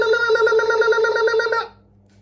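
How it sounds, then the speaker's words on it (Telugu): A person ululates with a high, rapidly trilling voiced warble held steadily for under two seconds, then cut off into quiet. "ఈ సౌండ్ ని మనం అల్యులేట్ అంటాం."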